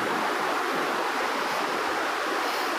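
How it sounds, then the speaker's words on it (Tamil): Broad, steady rushing of a river flowing, loud and close, with no pauses or voices. "இங்கே தான் ஆறு கீழே தண்ணி போகுது."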